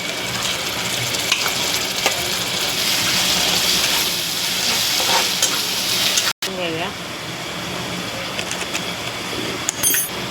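A ground paste of onion, tomato and coconut fries loudly in a pan for prawn gravy, a bright continuous sizzle with scraping stirs and a brief cut, while a voice speaks intermittently over it.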